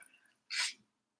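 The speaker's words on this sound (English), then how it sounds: "Oh, I feel like I'm going to sneeze." A single short, sharp sneeze close by, preceded by faint breathy sounds and followed by silence.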